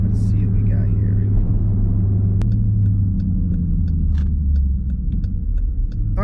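A Dodge SRT car launches from 0 to 60 mph, a deep, loud engine rumble rising steadily in pitch as it accelerates, heard from inside the car.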